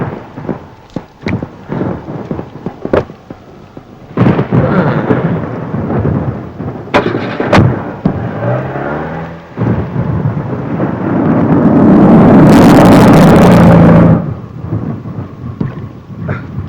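Heavy rain with thunder: sharp cracks and crashes of thunder over a steady rain, building to a loud, long rumbling roll before fading, close and powerful.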